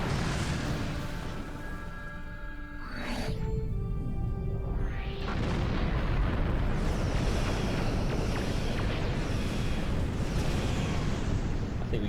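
Starship weapons fire in the Star Trek Online space game, with a rising whoosh near the three-second mark and a second sweep after it, then a dense, steady roar of continuous battle noise. No one speaks.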